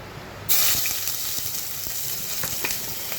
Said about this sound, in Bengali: এখন আমি প্রথমেই আমি পেঁয়াজ কুচিটা দিয়ে নিচ্ছি তেলের মধ্যে